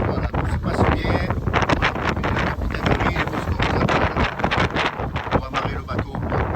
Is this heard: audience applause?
no